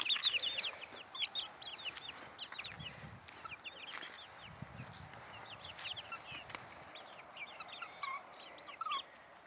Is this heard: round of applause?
no